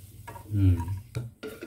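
Pork fat frying in a pan as pieces are scooped out, a brief close sizzle with scraping and stirring against the pan.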